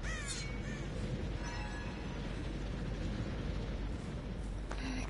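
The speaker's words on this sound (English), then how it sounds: "Give me the crows!" Crows caw in the Dead by Daylight video game, a few harsh calls near the start and middle standing over a dense, steady rumbling background that fills the whole stretch.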